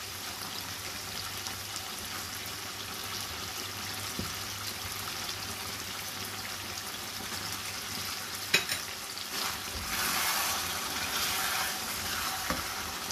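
Chopped tomato fries in a spiced masala for dahi beef curry, a soft steady sizzle with occasional stirring scrapes and a brief clink, the frying swelling louder near the end.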